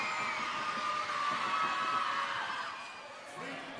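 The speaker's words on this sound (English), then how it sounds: "Crowd getting loud." A basketball crowd roars steadily at a Big V men's game between Shepparton and Sunbury, a dense sustained swell that eases near the end, with a voice speaking over it.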